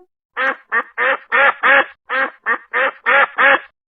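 A human voice imitates a duck, giving ten loud nasal quacks in a quick, fairly even rhythm with short gaps between them.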